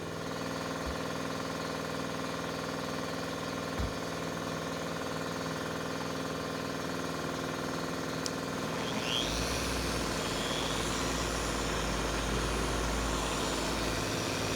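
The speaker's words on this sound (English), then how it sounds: "we'll make a return trip with the polisher on the 3rd speed setting" A car polisher set to its third speed runs steadily with ShineMaster compound spread on the pad, a constant mechanical hum that grows rougher and denser partway through as the pad works across the paint.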